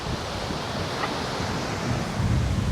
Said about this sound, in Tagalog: Medyo malakas yung hangin eh.